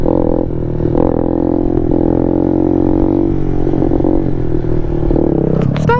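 A 2017 Kawasaki Z125 motorcycle rides steadily with a continuous close engine drone, then the rider coasts onto the rear brake for a stoppie, with a brief clatter and rising whine near the end.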